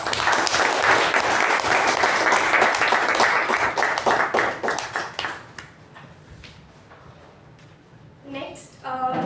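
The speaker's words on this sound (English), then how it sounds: "let us give all of us a huge round of applause" A club meeting audience applauds loudly for about five seconds, then the clapping thins and fades into scattered claps and a brief voice near the end.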